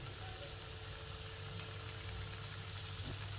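Turmeric and black pepper fry in a pan with a faint, steady sizzle, quiet and continuous with no talking over it.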